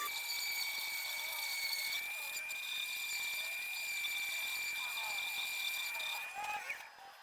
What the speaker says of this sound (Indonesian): Lakukan terus hingga dudukan mur menipis dan rapi, hingga lubang engsel bisa presisi di dudukan mur.